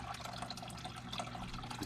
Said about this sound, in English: A nice large water dish to drink out of with a filter, just like Diamond